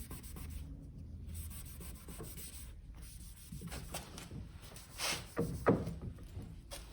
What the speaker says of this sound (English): So here's some acetone. I'm wiping on some acetone.